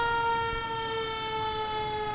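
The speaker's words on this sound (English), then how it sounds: "you can hear the sirens coming up of the Edinboro Fire Department" Steady wailing siren tones from a fire truck at a homecoming parade in Edinboro, loud and continuous over a low rumble of traffic, no voices.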